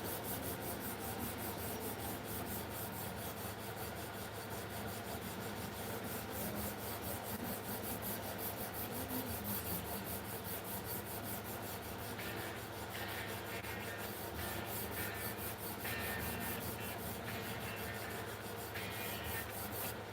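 Steady, continuous sanding by hand, a close rasping rub that keeps an even back-and-forth texture from start to finish with no pauses and no talk.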